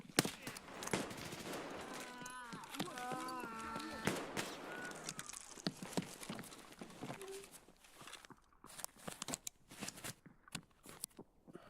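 Gunfire in the shooter Escape from Tarkov, sharp scattered shots and short clattering bursts, some near and some distant, mixed with footsteps and movement noise and a stretch of game sound effects.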